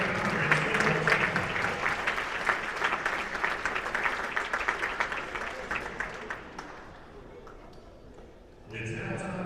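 A crowd applauds the 2016 All-Southland Conference football team, sustained dense clapping that gradually tapers off before a voice speaks over the room at the end.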